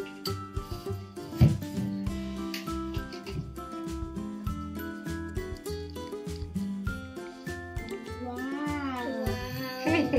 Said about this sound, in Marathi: हे मांजर आमची